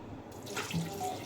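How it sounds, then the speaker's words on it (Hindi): Water poured into a pot holding 1 kg of bone-in chicken to make yakhni, about 2 liters going in as a steady close rushing splash. "इसमें मैं डालूँगी 2 लीटर पानी"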